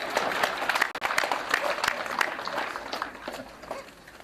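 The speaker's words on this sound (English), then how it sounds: "we probably should also clap for the boys" A crowd claps steadily for several seconds at a Kenyan KCSE exam results announcement, dense overlapping applause with a brief dip near the start before carrying on.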